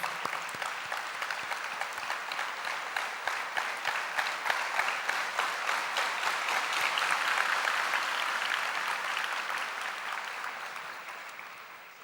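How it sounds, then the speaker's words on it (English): An audience applauding at a Sri Sathya Sai Balvikas alumni meet at Prasanthi Nilayam, rhythmic clapping that swells to a steady peak and then slowly fades toward the end. "Let us applaud these dedicated and fortunate children."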